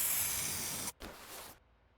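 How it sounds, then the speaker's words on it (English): WD-40 sprayed onto a rusty bolt in Car Mechanic Simulator: a steady aerosol hiss runs for nearly a second, cuts out briefly, then a second shorter spray follows before silence. "How do we freaking spray it with some WD-40 though?"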